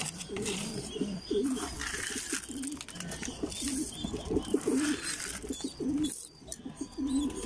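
Pigeons coo softly in low, throaty repeated calls, close by, over a constant background hiss and rustle.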